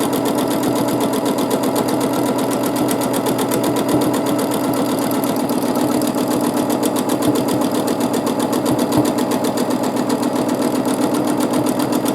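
A sewing machine running continuously for free motion quilting, its rapid needle stitching forming an even mechanical chatter with a steady motor drone, close and loud without pause.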